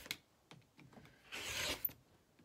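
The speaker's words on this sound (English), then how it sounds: "then you're going to basically just cut 1 inch strips" Scissors snip through old blue jeans to cut one-inch denim strips, a few faint close crunching cuts and a short rasping slice, quiet and alone.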